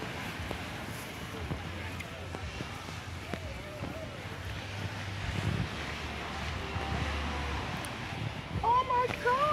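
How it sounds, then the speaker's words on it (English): Rushing water and wind noise buffet the microphone over a low engine drone on a moving boat at Alligator Pond, St. Elizabeth, Jamaica, with voices talking and shouting over it. "Today I'm going boat riding."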